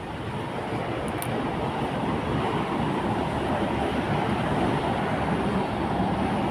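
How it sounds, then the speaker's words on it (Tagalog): Light rail train passing near a rooftop garden, a broad, steady rushing roar of wheels and track noise that holds loud for several seconds with a brief high squeal early on. "LRT."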